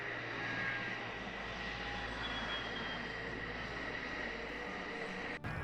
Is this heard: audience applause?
no